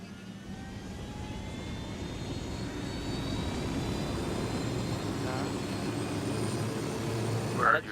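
Helicopter in the video game Ghost Recon Wildlands, a steady engine and rotor roar building slightly in loudness, with faint game voices beneath.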